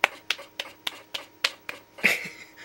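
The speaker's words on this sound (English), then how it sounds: "Look at him clap." A lone contestant in a Wheel of Fortune video game clapping, about eight crisp, evenly spaced claps close up, with a slightly louder, blurred final clap.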